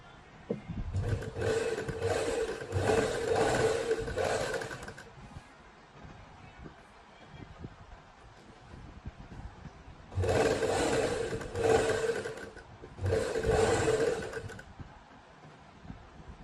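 Domestic sewing machine stitching lace onto the centre panel of a suit, running in three bursts of steady mechanical whirring separated by pauses, fairly close.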